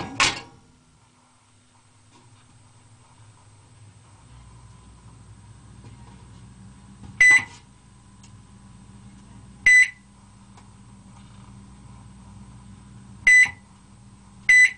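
Microwave oven hums quietly and steadily while running, punctuated by four sharp electronic beeps spread across the clip.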